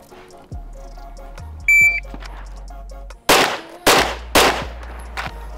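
At an outdoor range, a shot timer gives a single sharp electronic beep, then a Rost Martin pistol fires three loud, close shots in quick succession during a low-round-count drill.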